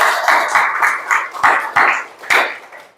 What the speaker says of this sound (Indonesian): Tepuk tangan untuk kelompok yang ketiga.